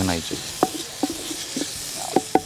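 Mint leaves sizzle softly in hot oil for a tempering, with a few sharp pops and crackles, close and fairly quiet, with no talking.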